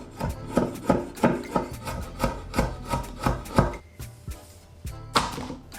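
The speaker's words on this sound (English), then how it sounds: "Now finally chop the garlic." Garlic is chopped with a knife on a wooden board, giving a steady series of about a dozen quick, close taps with soft rasping between strokes. No one talks.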